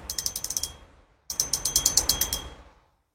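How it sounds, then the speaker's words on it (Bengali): Handle of a Jatara LBXT 3000-series spinning fishing reel turned in two quick bursts, each a rapid run of crisp ratchet clicks that slows and fades, close and clear with no talk. "খুবই স্মুথলি ঘোরে, খুবই ভালো কোয়ালিটি একটা রিল"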